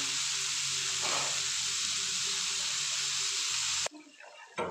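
Steady, bright sizzling of okra frying in hot oil for several seconds, then it suddenly drops away to near quiet with a small clatter.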